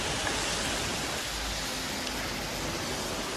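Steady rain falls on a street in Interlaken, Switzerland, a dense, even hiss that stays constant and fairly loud throughout, with no talking.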